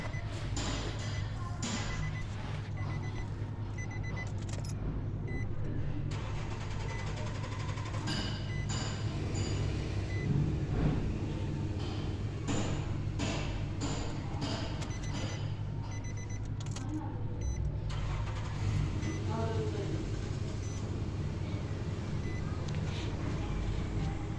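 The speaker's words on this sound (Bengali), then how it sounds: "তো এখন করবো গাড়িটা স্টার্ট" A Nissan car engine, being checked for misfire, vibration and knocking after throttle body and mass airflow sensor work, idles steadily with a low continuous drone and occasional clicks and thumps nearby, with faint voices in the background.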